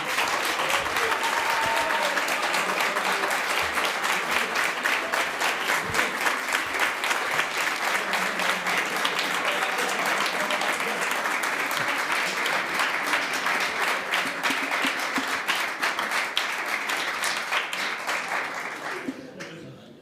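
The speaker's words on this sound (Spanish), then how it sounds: "20 segundos de aplauso" Prolonged audience applause after a lecture by Ana Sojo: a long, dense spell of clapping from a large crowd with a faint voice underneath, holding steady before tapering off at the end.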